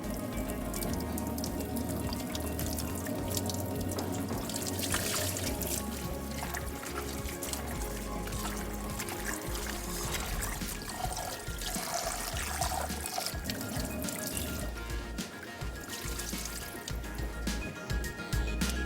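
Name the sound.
washing salted bitter gourd under tap water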